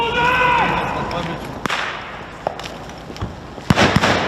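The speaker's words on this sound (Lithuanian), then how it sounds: "tačiau einant mišku pasigirsta šūviai" Gunshots in a forest ring out as a few sharp, scattered cracks, some single and one closer burst near the end, after a brief tonal sound at the start.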